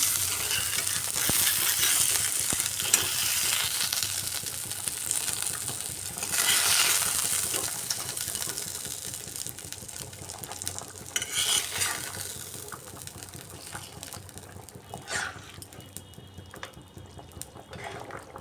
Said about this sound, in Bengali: এবারে এর মধ্যে আমি ভেজে রাখা তেলাপিয়া মাছ দিয়ে দিচ্ছি